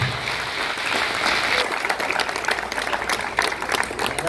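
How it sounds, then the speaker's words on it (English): Warm applause from an audience at an all-hands meeting, a dense, full burst of clapping that grows more distinct and individual claps stand out as it continues. "that gives you good reason to applaud"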